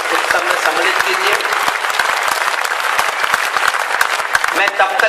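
Dense, energetic audience applause at a Hindi poetry recital on New Year's Eve, loud crowd clapping throughout with voices mixed in beneath it.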